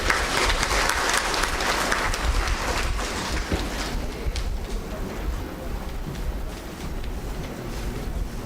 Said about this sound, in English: Please give a huge round of applause for the students.